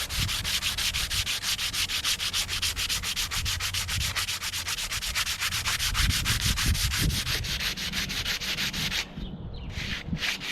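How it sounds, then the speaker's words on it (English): Sandpaper rubbed back and forth along a wooden woomera atlatl, a steady rapid scraping rhythm held close and loud, easing off briefly near the end. "it's okay to lose quite a bit of material in the sanding process, especially with the higher grit, or the lower grits like 80, 60"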